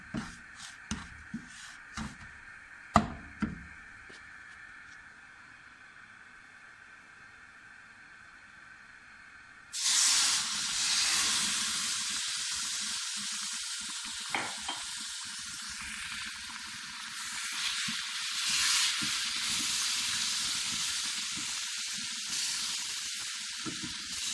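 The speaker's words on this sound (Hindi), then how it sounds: "सूजी का कलर ब्राउन हो चुका है। अब इसमें दूध शामिल करेंगे।" Milk is poured into hot, browned semolina for halwa. It bursts into a loud, sudden hiss and sizzle partway through, after quiet clinks and stirring taps, and the frying hiss then carries on steadily with occasional stirring.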